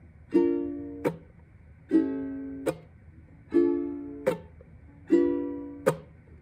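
Ukulele intro strummed in a down-chuck pattern: four bright ringing down-strums, each cut off by a sharp muted chuck, repeating steadily and close with no talking.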